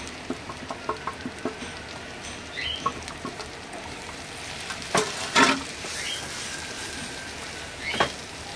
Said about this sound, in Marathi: आता ते याच्यात मिक्स करायचं